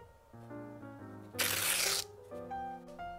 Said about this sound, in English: he heard the test paper tear